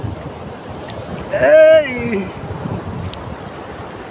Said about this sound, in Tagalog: Maginaw, mahangin na nga.